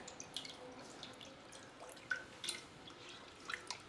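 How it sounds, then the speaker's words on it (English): Ketchup and water simmering in a pot give off faint, sparse pops and small bubbling drips over a low steady hiss, quiet and close with no voices. "And then you're going to go ahead and bring this to a simmer."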